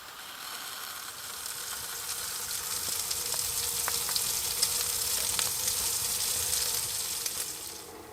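Bacon sizzling and frying in a pan at a snowy winter campsite, a steady crackling hiss with scattered sharp pops, close and fairly quiet, with no voices.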